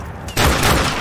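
A sudden loud burst of gunfire in Call of Duty Modern Warfare, cutting in after a quieter moment and rolling on as a dense blast for the rest of the second.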